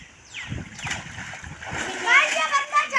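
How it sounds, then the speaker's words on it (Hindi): Someone dives into a water park pool in Karachi, and the splash of water rises toward the end, mixed with voices and children's chatter nearby. "अब मैं डुबकी लगाऊंगा ये वाली, देखो।"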